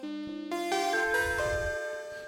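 Synth notes from a randomly generated seed patch, each key mapped to a different sound, entering one after another and layering into bright, bell-like and buzzy tones, with a noisy texture underneath; close and moderately loud.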